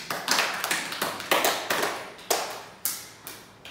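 A group clapping hands in about a dozen separate sharp claps, uneven in spacing and close by, with no voices.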